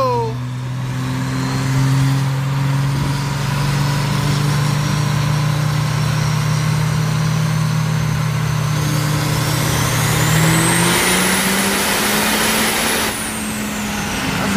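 A loud truck engine revs steadily on a dyno at a competition, its pitch climbing and holding for a long stretch before easing off, with a sustained heavy drone throughout.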